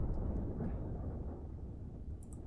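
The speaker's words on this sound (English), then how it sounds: "Or maybe a distant explosion?" A deep, rolling boom that rumbles on like a far-off blast, low and heavy, fading slowly with a faint crackle at the end.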